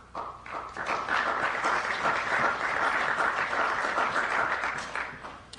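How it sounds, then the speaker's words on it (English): A crowd at a political speech on national security breaks into sustained applause, swelling quickly into a dense, even wash of clapping that holds steady before tapering off at the end. "I need your applause"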